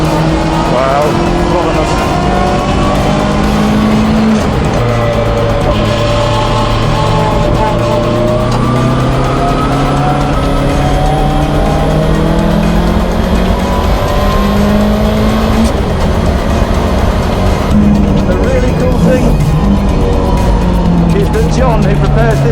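A Renault race car drives hard on a circuit and closes in to overtake another car, its engine loud and constant as it revs up and down through the gears, with occasional tyre squeal and a voice talking over it.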